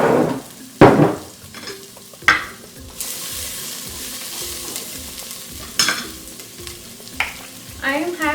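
Onions and garlic frying in olive oil in a pan, with steady soft sizzling broken by sharp scraping stirs and clatters of a utensil against the pan.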